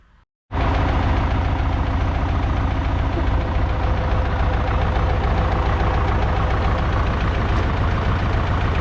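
A YUMZ tractor engine starts abruptly after a short silence and runs at a steady, loud, rough idle with rapid knocking pulses while a two-cylinder hydraulic hitch is tested, close up with no talking.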